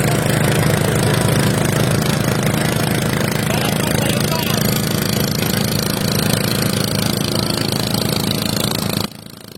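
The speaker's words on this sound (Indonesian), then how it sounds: "Terkadang terdengar pantulan suara perahu karena perjalanan kami melalui sungai di antara dua gunung." A motorboat engine drones steadily and loudly on the Kluet River in South Aceh, running between two mountains, with an unbroken mid-pitched hum that holds for about nine seconds before cutting off abruptly.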